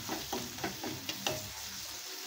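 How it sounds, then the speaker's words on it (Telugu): Masala of turmeric, chili powder, coriander powder and salt fries in a pan with a continuous gentle sizzle, punctuated by regular spatula scrapes and taps, close up with no voices. "ఇది కూడా ఇలా ఫ్రై చేసుకోవాలి"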